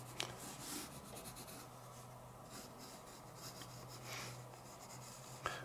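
Pencil lead drawing a tree on paper with light pressure, a soft continuous scratching and rubbing of close strokes, alone and quiet, with a couple of sharper taps.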